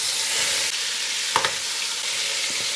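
Marinated mutton pieces for biryani drop into hot oil and set off a steady, loud sizzle. A brief splash and spatter sounds partway through, with no talking.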